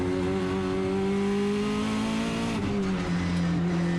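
A time attack race car at Sydney Motorsport Park's 2019 World Time Attack Challenge holds a loud, steady engine drone, then the pitch drops sharply as it downshifts with paddle shifters and settles into a lower note.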